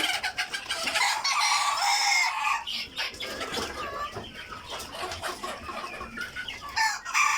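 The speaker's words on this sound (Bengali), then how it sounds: "এটা আমাদের 3 মাসের প্যারেন্টসের মুরগি। যাদের প্রয়োজন অবশ্যই যোগাযোগ করবেন। মুরগির সাথে মোরগও আছে" Three-month-old Egyptian Fayoumi chickens cluck and squawk continuously close by, with occasional rooster calls mixed into the busy, fairly loud flock noise.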